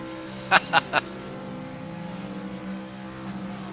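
A racing video game car engine drones steadily at a low pitch during a burnout after a race at Phoenix, Arizona, with three short sharp bursts near the start and no clear talk.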